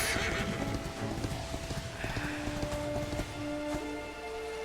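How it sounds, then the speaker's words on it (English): Horse in Dragon Quest XI neighing while its hooves clip-clop steadily across the ground, with soft game music playing underneath. "Yes, I can use the fucking horse."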